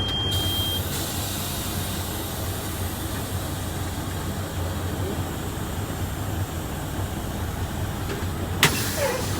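A truck tractor creeps forward slowly during a parking brake test, producing a steady low engine rumble and broadband cab noise throughout, with a brief sharp click near the end.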